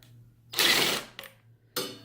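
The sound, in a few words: power driver loosening screws on a foot rest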